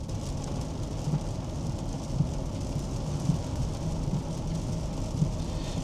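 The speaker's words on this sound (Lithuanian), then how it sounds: "lietus daužosi į stogą ir į langus" Steady rain drums on the roof and windows of a Land Rover Range Rover Sport driving at about 90 km/h, a dense hiss over a low road rumble, with faint rhythmic wiper thumps throughout.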